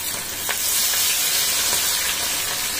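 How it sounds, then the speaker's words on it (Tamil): Chicken leg pieces fry in hot oil in a cast iron kadai, giving a dense, even, close hiss that holds steady with faint popping throughout. "கடாய் அம்மா வச்சு எண்ணெய் ஊத்தி சூடாயிடுச்சு எண்ணெயும். இப்ப சிக்கன் போட்டுக்கலாம்."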